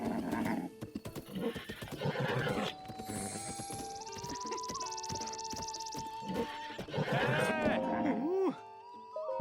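A horse in a Zelda game whinnies and neighs in a long, drawn-out call, with hoof clip-clops and a few game tones around it, fairly quiet overall.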